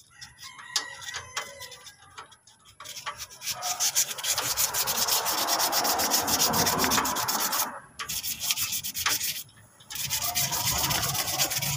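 Sandpaper rubbed back and forth by hand, a rough scratchy rasp in repeated strokes with short pauses between bursts, close and moderately loud.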